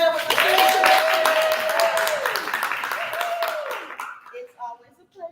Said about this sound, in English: you all please give a huge round of applause to Commissioner Richardson